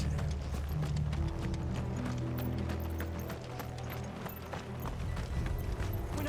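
Horses gallop in Final Fantasy XVI with rapid, busy hoofbeats and clattering tack over a dense, loud game soundscape, continuous throughout.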